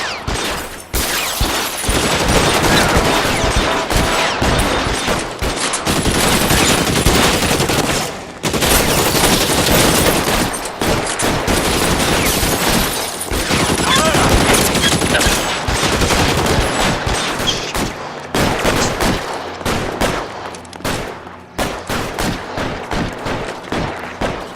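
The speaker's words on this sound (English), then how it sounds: "Bullets start flying, and they snatch up the guns and one of the cops." Sustained gunfire in the video game LA Noire as cops come under attack, loud dense bursts of automatic and repeated shots with booms, almost continuous apart from brief pauses, with no voices.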